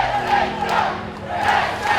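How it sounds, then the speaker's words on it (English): A large wrestling show crowd at the Action Building in Canton, Georgia roaring and cheering, a dense sustained wall of voices and shouts that swells and dips briefly, with no clear talking over it. "Listen to this crowd,"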